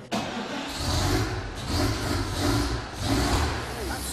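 A restored WWII fire engine's motor runs steadily with a deep low rumble, its level swelling and easing in a few slow surges as if revved.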